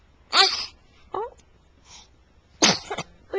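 A child's sneezes, three sharp bursts spaced about a second apart, close and fairly loud, with short voiced breaths between them.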